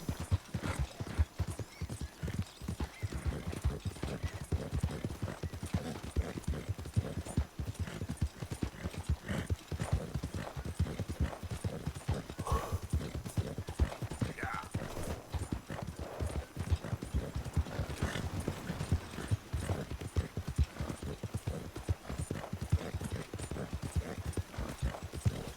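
A white horse in Red Dead Redemption 2 walks with a steady, close clip-clop of hooves that continues unbroken throughout, with occasional faint snorts.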